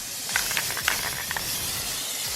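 A second coat of spray paint on a Nerf gun, a steady aerosol hiss with a few brief crackling spurts, close by and moderately loud.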